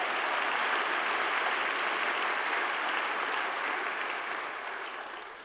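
A church congregation gives a hand clap of praise, steady dense applause that holds strongly, then gradually tapers off near the end, with no speech over it.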